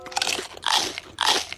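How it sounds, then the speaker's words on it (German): Loud, close crunching as someone chews food, three distinct crunchy bites in quick succession with no talk. "Schling nicht so. Jeden Bissen gut kauen."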